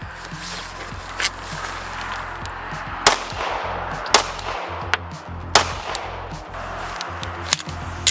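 Handgun shots ring out at a shooting range, sharp single reports spaced irregularly over steady background noise and rumble, roughly seven or eight cracks in all.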